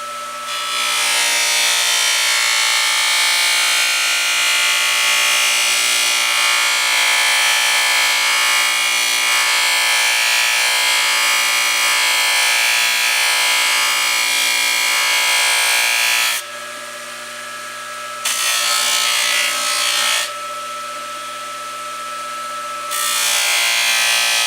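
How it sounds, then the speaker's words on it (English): A hoof knife blade is sharpened against wheels rotating away from the user, producing a loud, steady, broadband grinding whir for most of the clip, with two short lulls near the end where the contact eases off. "So I sharpen off the top with my wheels rotating away from me."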